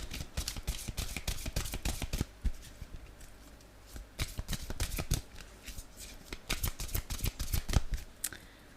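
Tarot cards shuffled by hand in quick bursts of riffling flicks and slaps, close and crisp, with a brief pause before the shuffling resumes and a cut near the end.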